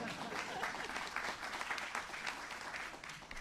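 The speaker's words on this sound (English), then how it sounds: "you can clap for that." Audience applause at a gathering celebrating achievements for seniors in Pennsylvania, steady dense clapping from a large crowd heard at a distance, sustained evenly throughout.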